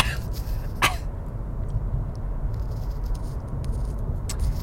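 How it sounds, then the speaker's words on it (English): A particle accelerator in a sci-fi film gives a single sharp cough-like burst over a steady low mechanical rumble, followed by faint scattered clicks and rattles. "Did the particle accelerator just cough?"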